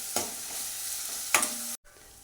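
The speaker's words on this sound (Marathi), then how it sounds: "आता हे आपण चांगलं एक मिनिटभर तेलामध्ये परतून घ्यायचं आहे" A ginger, garlic, coriander and coconut paste fries in oil, producing a steady hiss with two sharper sizzling bursts as it is turned, then a sudden brief cut before the frying resumes.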